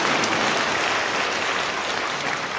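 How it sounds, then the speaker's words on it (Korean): Dense, steady applause from a church congregation at a sacred music concert with a tenor soloist, sustained and fairly loud throughout with no voices on top. "네, 박수 주시죠"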